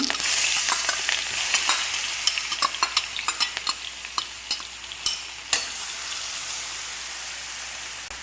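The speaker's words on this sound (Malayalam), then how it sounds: "ഇപ്പോൾ നമുക്കിതിലോട്ട് ഈ ചതച്ച് വെച്ചിരിക്കുന്ന ചെറിയ ഉള്ളി ഇട്ട് കൊടുക്കാം" Crushed shallots sizzling in hot oil with cumin in a village kitchen, a steady bright frying hiss broken by sharp spatula scrapes and stirring clicks, close and fairly loud, no voices.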